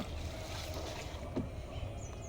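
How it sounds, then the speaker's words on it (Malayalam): A small country boat moves on calm backwater at Munroe Island, soft lapping and faint splashes mixed with a light breeze, quiet and somewhat distant. "അവിടെ നിന്ന് വഞ്ചി ഇങ്ങോട്ട് വരുന്നുണ്ട് കേട്ടോ"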